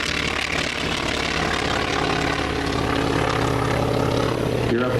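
A North American T-28 Trojan propeller airplane makes a pass at the 2015 Blue Angels Homecoming Airshow, its engine a loud, steady roar throughout, with a voice talking over it.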